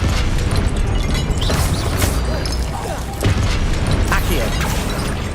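Confringo fire blast spells in Hogwarts Legacy erupt as loud booming explosions, several sharp bursts and crashes over a constant rumbling battle din, with no voices.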